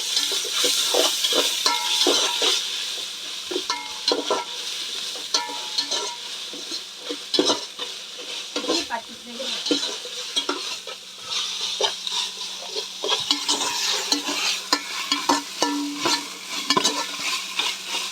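Steady sizzling of ginger-garlic paste frying in a pan, with repeated scraping and stirring strokes throughout, close and fairly loud, no voices.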